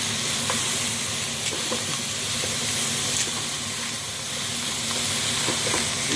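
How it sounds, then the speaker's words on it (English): Onions caramelizing in a pan while vegetables cook for a veggie breakfast, giving a steady, close, continuous sizzle and hiss with occasional stirring clicks and no talking. "Get everything cooking in here and Caramelize those onions."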